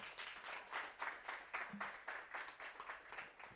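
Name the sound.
audience applause after a keynote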